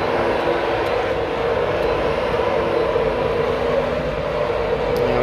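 An InterCity train departs Doncaster station, producing a loud, steady, broadband engine rumble that holds throughout, with no talking.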